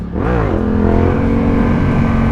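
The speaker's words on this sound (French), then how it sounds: "On accélère à peine, t'as la roue avant qui dit bonjour au ciel" A Yamaha XSR 700 motorcycle accelerates hard, its engine note climbing sharply then holding a loud, steady buzzing drone close to the microphone.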